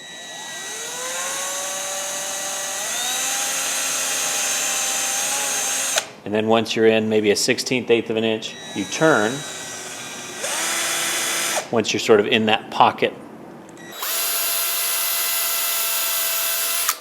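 A power drill bores an angled screw hole into wood, its motor whining steadily at first, then pulsing in bursts as the bit is pecked in and out, with a person talking over it.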